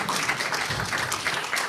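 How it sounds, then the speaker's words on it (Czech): Audience applause at a Czech panel discussion on freedom of speech and disinformation, a steady wash of many hands clapping throughout the short stretch with no talk over it. "Ano, to je za potlesk."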